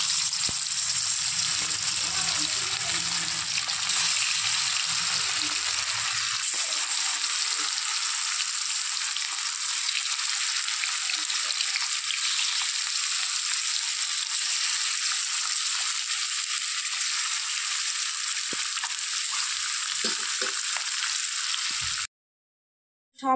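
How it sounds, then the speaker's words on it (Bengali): Fish fries in hot oil in a wok, giving a steady, close hiss and sizzle. A low rumble underneath fades after the first few seconds, and the sound cuts off abruptly near the end. "এখন এর মধ্যে মাছগুলো দিয়ে দিব। মাছগুলো একটু ভেজে নিতে হবে।"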